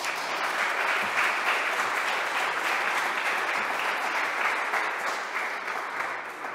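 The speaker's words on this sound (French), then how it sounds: "On a le droit de l'applaudir, oui." Long, full applause from an audience at a closing session, dense and sustained for several seconds before easing slightly at the end.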